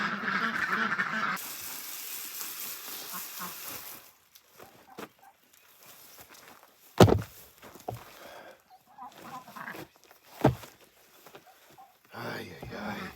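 Ducks quack and cluck in a garden setting, a sustained flock noise at first, then scattered brief calls and sharp knocks against metal, with a voice speaking at moments.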